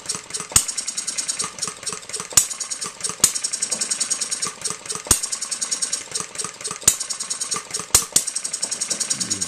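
An Economy hit 'n miss stationary engine runs close by, a steady rapid mechanical clatter with periodic louder firing bangs every second or two as it hits and coasts.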